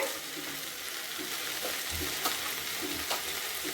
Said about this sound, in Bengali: এটা একটু ভাজা ভাজা হোক, তারপর আমি ফিরে আসছি। এটা ভাজা ভাজা হয়ে গেছে।